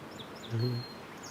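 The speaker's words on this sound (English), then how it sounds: "Okay, we got a song sparrow in this." A song sparrow sings a brief, faint phrase amid steady outdoor background noise at a marsh on Sargeant Bay.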